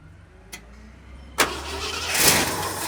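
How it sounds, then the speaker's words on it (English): A 1972 Ford F250 with a 390 V8, parked since 2007, cranks briefly and then catches and fires up, rising into a loud, rough running roar close by. "Look at that, she fired up."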